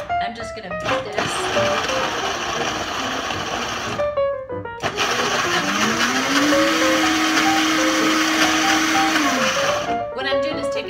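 High-powered blender pulsing to crush ice for a mixed berry pomegranate smoothie bowl, loud grinding whirs in several bursts with short pauses between, the motor pitch rising during a longer sustained run.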